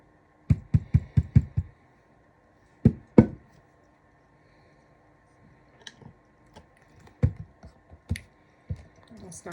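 A snowglobe tumbler is knocked against a hard surface to free trapped air: a quick burst of five or six sharp close knocks, then a pair of louder taps, followed by scattered lighter taps and clicks.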